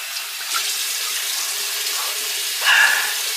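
Tap water running into a bathroom sink while someone wets their face, a steady close hiss of flow with a brief louder splash near the end, no talk.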